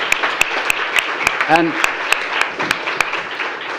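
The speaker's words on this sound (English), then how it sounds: "A big round of applause" Audience applause at a peace, security and defence summit, a steady wash of clapping with a few sharp louder claps standing out, while someone speaks briefly over it.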